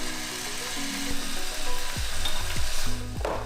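Glutinous oil rice ingredients are stirred and sizzle in a hot pan, a steady frying hiss broken by a few scraping strokes of the spatula, fairly quiet with no voices.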